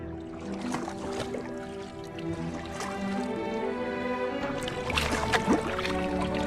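A small rowing boat moves through river floodwater with steady sloshing and splashing, paddle strokes close by, and a dull knock around the midpoint.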